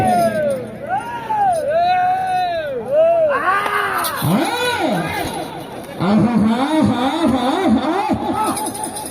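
A crowd at a village bull competition shouts and whistles loudly, with rising and falling yells and sharp whistles overlapping in a lively, close clamour.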